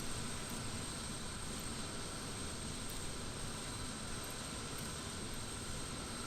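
Steady, dense roar of the Antonov An-225's six jet engines running in MSFS 2020, a constant loud drone with no breaks and no voices.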